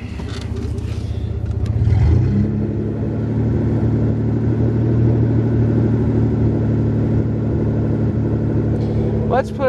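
A 9.0L engine cold-starts after a brief crank and settles into a loud, deep, rough idle that rumbles steadily for several seconds, with talking heard briefly around the start.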